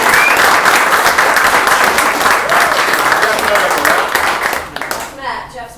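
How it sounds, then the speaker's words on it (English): An audience at a Post & Beam Brewing Co. event applauds, a loud, dense wash of clapping from a crowd close by. The applause fades over the last second, with a few scattered claps and voices at the end. "round of applause for the Post and Beam for having us here."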